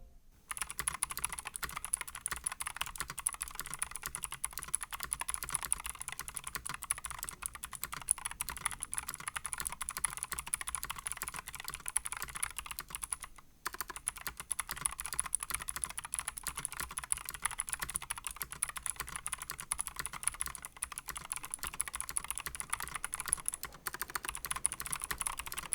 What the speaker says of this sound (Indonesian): Dan berikut typing test dari ROG Strix Flare 2 Animate.